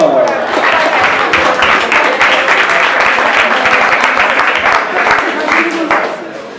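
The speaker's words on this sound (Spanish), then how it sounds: "Un aplauso." A live audience bursts into sustained applause, many hands clapping densely and evenly for several seconds before tapering slightly at the end, with no talk over it.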